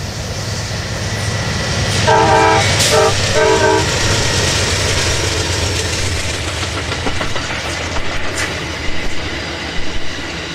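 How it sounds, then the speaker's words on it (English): Amtrak's Coast Starlight passenger train races along near Dorris toward the California–Oregon border, its horn sounding in a few loud blasts over a steady rumble and clatter of rail cars. "the Starlight races along near Doris as it approaches the California-Oregon state border"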